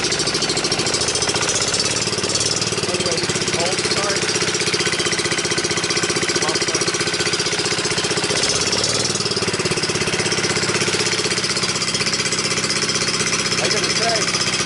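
A hauling trike's engine runs on a new out-of-the-box carburetor, a loud, steady rattling chug that idles close by without pause while someone talks over it.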